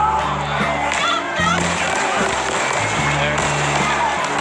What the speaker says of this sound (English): They're firing rubber bullets.